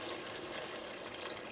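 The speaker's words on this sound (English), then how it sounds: "Now I'm just going to add some water" Water poured from a vessel into a cooking pot holding browned chicken pieces for a jute mallow stew, a steady close splashing rush that runs unbroken throughout with no talking.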